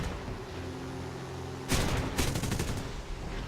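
A 37 mm cannon on a P-39N fighter in War Thunder fires in two loud bursts of heavy booming shots, rising over a steady engine drone.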